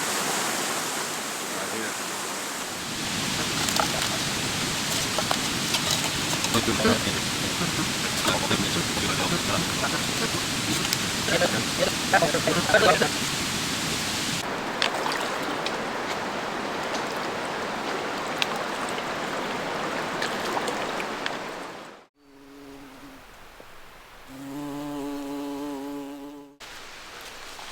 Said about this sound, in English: after all that rain, there's plenty of waterfalls out here